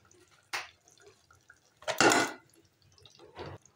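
Water is poured in a few short splashing bursts into a cooking pot holding softened tomatoes and beef, with quiet gaps between the pours.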